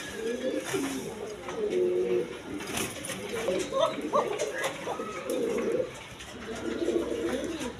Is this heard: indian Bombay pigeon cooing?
yes